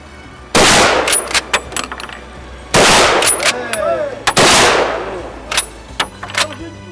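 Several sharp metallic clacks of pétanque boules striking one another in a shooting game, three loud bursts with ringing decay and a few lighter knocks after, over outdoor ambience and some faint background voices.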